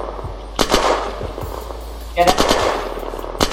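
Bursts of rapid gunfire in a Hunger Games video game, coming as several loud volleys of machine-gun-like shots, with players talking over them.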